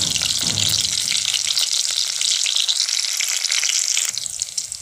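Cumin seeds and chilies sizzle steadily in hot refined oil for a fasting-day potato dish, a loud, continuous crackling fry with no voices that eases slightly toward the end.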